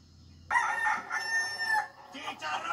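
A rooster crows in the video game Far Cry 6, one loud drawn-out crow lasting about a second and a half, followed by a few shorter bursts close by.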